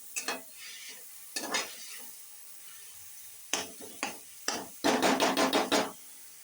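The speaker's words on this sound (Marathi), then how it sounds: "मंद गॅसवर ठेवून द्यायची भाजी" Mixed vegetables stir-fried in a pan over a low gas flame, with soft sizzling beneath repeated scraping stirs that come in short bursts and then a quick run of rhythmic strokes near the end.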